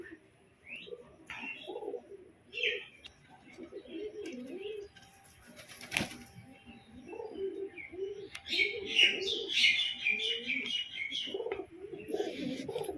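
Repeated low, throaty coos from a biscuit-colored male pigeon close by, broken up by a few brighter chirps and tweets, with the cooing continuing steadily throughout.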